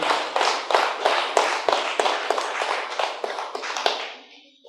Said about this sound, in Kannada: ಚಪ್ಪಾಳೆ ಹೊಡೆಯೋದರ ಮೂಲಕ ಮತ್ತೊಮ್ಮೆ ಅಭಿನಂದನೆಗಳನ್ನು ಸಲ್ಲಿಸೋಣ